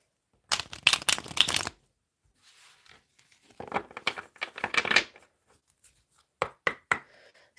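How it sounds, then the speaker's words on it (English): Tarot cards being shuffled by hand in three quick bursts of crisp riffling and slapping, close and fairly quiet, with short pauses between bursts. "One more shuffle."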